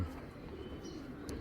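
Pigeons kept in a Bangladeshi pigeon seller's collection coo softly and steadily in a low murmur, with a faint chirp near the end and no talk over them.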